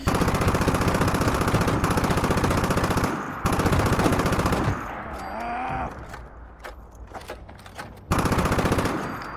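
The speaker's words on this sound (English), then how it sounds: "oh, I'm getting shot at" Rapid automatic gunfire in Fallout 76, loud and continuous bursts with a brief break, then mechanical creaks and tones before another loud volley returns.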